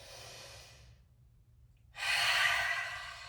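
A slow, audible breath ends a yoga practice: a soft inhale fades to a pause, then a fuller, breathy exhale sighs out close and clear.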